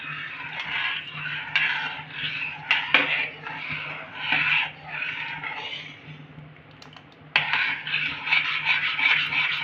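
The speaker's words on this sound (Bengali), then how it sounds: "এভাবে আমি একটু একটু করে দিতে থাকবো আর একটু একটু করে কিন্তু নাড়াতে থাকবো।" Homemade custard for butterscotch ice cream stirred continuously in a pot over low gas, repeated close scraping strokes of a spoon against the pot with brief pauses between.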